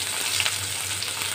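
Bitter gourd fries in a pan while being stirred, a loud continuous sizzling hiss with a low steady hum beneath, close and uninterrupted by speech.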